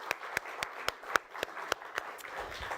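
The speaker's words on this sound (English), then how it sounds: "round of applause" Sparse applause from a small audience honoring panelists at a community health conversation on cancer prevention: a handful of distinct, irregular claps spaced across the moment, moderately near, with no talking.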